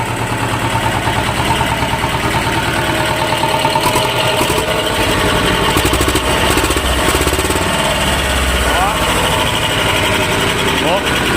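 A nearly 50-year-old T-25 tractor diesel engine runs at idle on a cold winter day, a loud, steady, rapid knocking chug close by with no break, while someone speaks briefly.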